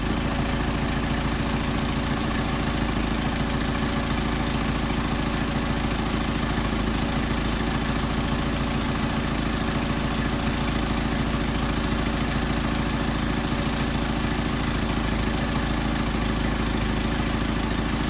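A Mercedes 190SL engine with Solex carburetors idles steadily at warm-up temperature, a constant low mechanical rumble with dense broadband hiss running unbroken and fairly loud throughout, with no voices.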